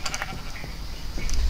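A sheep in the video game Minecraft, played with shader packs, gives a short wavering bleat at close range, with no one talking over it.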